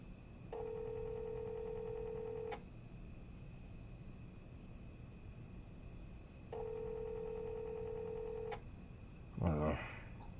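Telephone dialing tones while placing a call: two steady tones, each about two seconds long, separated by a gap, over a constant background hum and followed by a short burst of noise.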